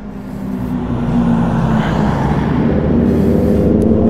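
A group of superbikes roars past on a road, their engines forming a loud, continuous growl that swells and holds close by for several seconds without talk.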